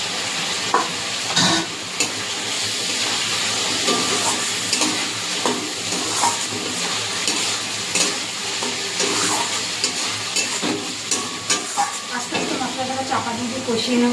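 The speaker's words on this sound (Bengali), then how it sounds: "ভেজে রাখা আলুটাও দিয়ে দেবো, একসঙ্গে কষিয়ে নেবো।" Fried potatoes and spices cook together in a pan for a katla fish curry, giving a loud, continuous sizzle with constant scraping and stirring clatter throughout.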